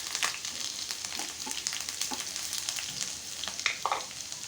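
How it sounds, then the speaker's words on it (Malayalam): Mustard seeds and half an onion frying in coconut oil while being stirred, a dense continuous sizzle with small pops and scraping strokes of the spoon, close-up and steady, no talk. "1/2 സ്പൂണ് കടുക്, ഒരു ഉള്ളിയുടെ പകുതി, ഇതെല്ലാം ഇട്ട് നല്ലതുപോലൊന്ന് ഇളക്കി കൊടുക്കണം"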